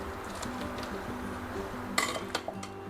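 A spoon mixes prawn and avocado salad with sauce in a bowl, giving soft, steady stirring scrapes and then a few sharp clinks of metal against the bowl near the end.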